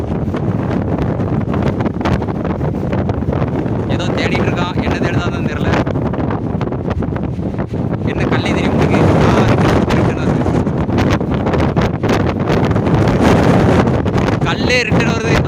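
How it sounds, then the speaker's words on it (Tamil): Loud, continuous wind buffeting the microphone at the Kadana river dam, with heavy rumbling gusts and voices faintly talking underneath throughout. "அந்த அளவுக்கு காற்று பயங்கரமாக இருக்குது"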